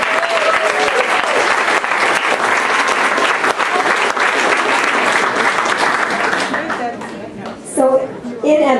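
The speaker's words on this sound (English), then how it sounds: "so let's give Drew a round of applause" Reunion audience giving a long, dense round of applause for the event's MC, steady and full for several seconds before tapering as voices come in.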